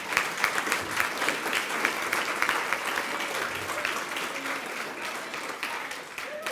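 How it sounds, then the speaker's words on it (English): Applause from a symposium audience, a steady wash of many hands clapping at moderate distance, sustained for several seconds with a faint voice near the end. "give a really big round of applause to Lauren and Sarah"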